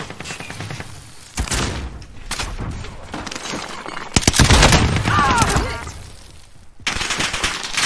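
Video game gunfire, loud bursts of automatic shots and heavy booms in several clusters, with players talking over parts of it.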